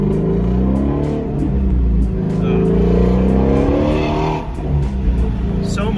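Exhaust of a 2018 Shelby GT350 with the resonators cut out and replaced by straight pipe: a loud, deep, continuous rumble rising and falling with throttle. A voice is partly mixed in.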